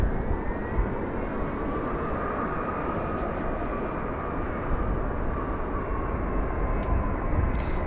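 A Boeing 757 jet powers up at Los Angeles International Airport, a dense, continuous engine roar filling the scene, loud and sustained from a distance on the airfield.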